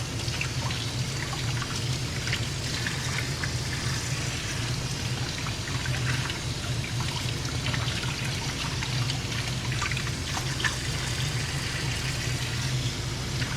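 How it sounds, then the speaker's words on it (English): Basil leaves rinsed under a running kitchen tap, a steady close splashing and trickling of water that continues evenly throughout, with no talking. "But for my basil, I'm gonna wash it. Give it a little quick rinse."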